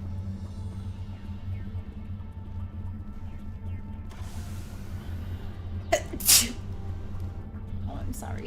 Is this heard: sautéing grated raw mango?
no